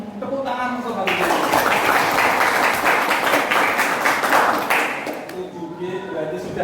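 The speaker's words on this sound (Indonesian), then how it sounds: "Tepuk tangan untuk hal ini." Students clapping together in an Islamic religious education classroom, a loud close burst of about four seconds set between stretches of a teacher talking.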